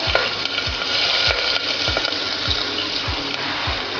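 Green chili, ginger and garlic frying in oil with popped mustard seeds and cumin make a steady, close sizzle, with low knocks from a utensil stirring about every half second.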